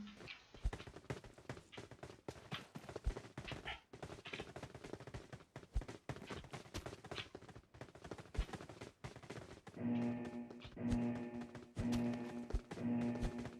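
Rapid bursts of automatic gunfire in the PUBG Mobile shooter game, repeated rattling volleys with a droning tone joining in the later part.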